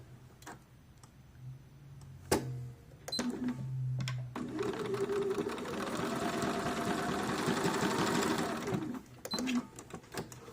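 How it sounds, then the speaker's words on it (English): A home sewing machine runs a steady line of top stitching close to the edge of denim jeans, a fast mechanical whir and ticking that lasts several seconds after a few short starts and handling clicks. "I'm going to top stitch it very close to the edge."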